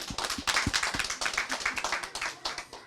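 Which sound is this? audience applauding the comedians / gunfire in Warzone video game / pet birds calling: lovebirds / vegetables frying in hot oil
audience applauding the comedians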